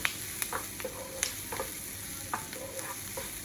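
A root vegetable hash sizzles steadily in a pan while it is stirred. Soft scraping taps of the utensil come every half second or so over a quiet, constant frying hiss, with no talking.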